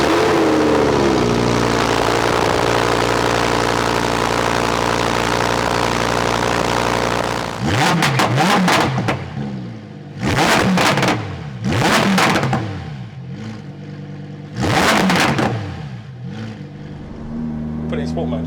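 An idling engine hums, then a modified 992-generation Porsche 911 Turbo with an aftermarket exhaust revs hard in several sharp bursts, each rising and dropping back, loud and close.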